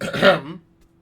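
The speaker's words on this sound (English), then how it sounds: "you should see something about that cough" A single short, throaty cough-like rasp close to the listener, ending abruptly into silence.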